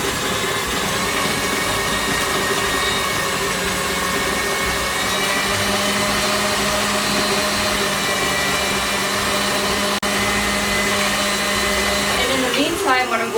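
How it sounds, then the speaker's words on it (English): A stand mixer with a paddle attachment beats butter for peppermint macarons, giving a loud, steady motor whir and churning drone that runs unbroken close by with no talk. "with my paddle attachment and my standing mixer, I'm just going to beat this until it is fluffy."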